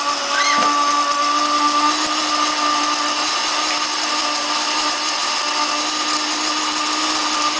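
A blender whirs at a steady high pitch, with a gritty grinding rattle of dry navy beans being milled into flour, loud and continuous with no talking.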